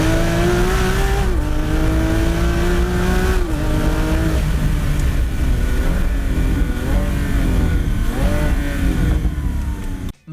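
Naturally aspirated V12 of a Lamborghini Aventador revving hard and loud, its pitch climbing and dropping through repeated sweeps as it accelerates and shifts, with no voices over it.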